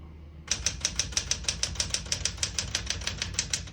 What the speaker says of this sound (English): We're going to keep that on single and finish typing.